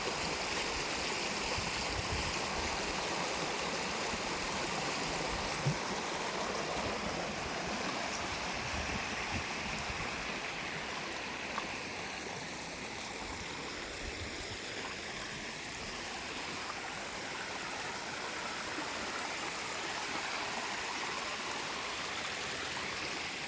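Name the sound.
water flowing in a stream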